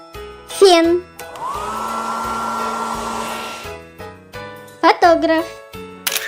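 A hair dryer runs with a steady whooshing drone for about three seconds. Short bursts of speech come before and after it, though the voices may be imitating or naming the sound.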